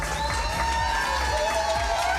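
Live audience cheering and whooping at the Corner Hotel in Richmond, a loud, dense crowd roar sustained throughout with shouts and applause mixed in.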